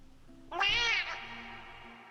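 Ambrosia the chocobo calls out in Final Fantasy XVI with one short, loud, meow-like cry that rises and falls, heard alone over faint game ambience.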